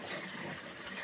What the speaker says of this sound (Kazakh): Қазір шелектен науасына қоямыз